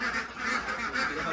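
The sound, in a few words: hybrid ducks quacking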